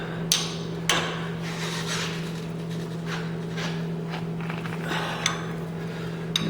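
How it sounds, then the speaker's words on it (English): Wrench tightening bolts on the brake of a 1997 Chevrolet K1500 Suburban during a drum-to-disc conversion, with a few sharp metallic clicks and taps over a steady hum. "I'm just going to tighten these. Basically as tight as I can get them on this wrench."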